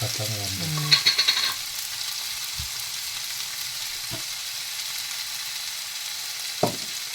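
Onion, ginger and garlic sauté in a hot pan with a steady broadband sizzle throughout, opened by a few quick clatters as they go in and broken by occasional soft knocks of a spoon.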